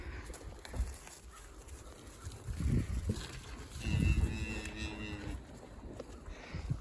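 Cattle at a farm feeding trough make low moos and grunts, a couple of deeper calls rising midway over quiet background noise, with no talking.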